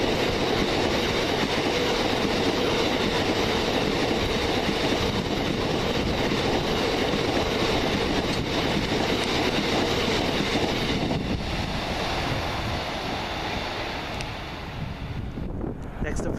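GB Railfreight train of new biomass hopper wagons rolls past at Ulleskelf, a loud, steady broadband rumble with rhythmic clickety-clack over the rail joints and wind buffeting the microphone, easing slightly toward the end.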